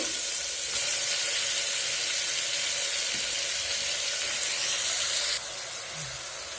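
Chopped brinjal, tomatoes and onion sizzle steadily in hot oil in a pan for an Andhra-style brinjal curry, a bright continuous hiss that drops slightly near the end, with no talking.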